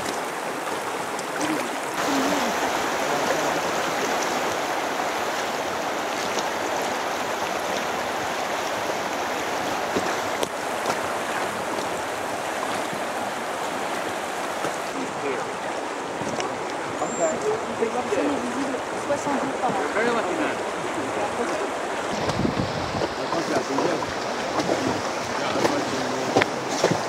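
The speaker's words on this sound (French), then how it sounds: "La rivière. On est dans la rivière." River water flows steadily and loudly around someone standing in the river, a broad continuous rush with splashes, while voices talk over it.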